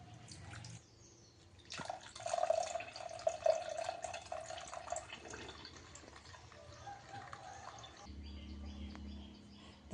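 Cotton seed milk strained through a sieve, a thin steady trickle and patter of liquid with drips, continuing for several seconds before quieting, close and moderately soft.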